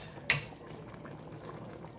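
Nigerian beans and plantain pottage with palm oil simmering in a pot, a soft steady bubbling hiss close by with one brief clink near the start.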